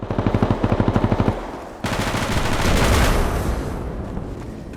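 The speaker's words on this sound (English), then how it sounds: "that is the distinct sound of an M4" Rapid automatic M4 rifle fire in a video game in two bursts: a tight string of shots, a brief pause, then a longer, denser volley with echoing tails.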